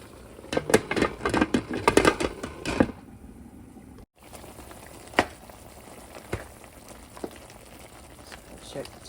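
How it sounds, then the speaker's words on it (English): Onions cooking in butter in a pot bubble and crackle in dense bursts for the first few seconds, then settle into a quieter simmer with occasional soft pops. "Now that the onions have come to a boil"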